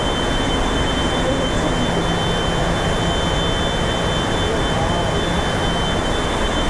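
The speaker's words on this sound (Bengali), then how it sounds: "এই হচ্ছে ইঞ্জিন রুম।" Engine room of the luxury passenger launch Prince Awlad 10 running from Dhaka to Barishal: a loud, unbroken, dense diesel roar with a steady high whine throughout, no pauses or talk audible.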